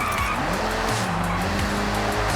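A race car in the Forza Horizon video game roars continuously through a second lap, its engine note shifting with gear changes over intermittent tire squeals and skids, loud and close throughout.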